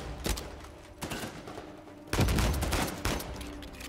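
Gunfire in the Uncharted 4 action game: several loud, sharp shots burst out amid a dense, noisy scuffle, with one cluster early and a heavier volley around the middle and later.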